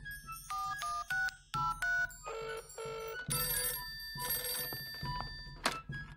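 A cartoon telephone rings with bright, repeated electronic tones in short bursts, followed by denser chiming rings and a few thunks, fairly quiet and without speech.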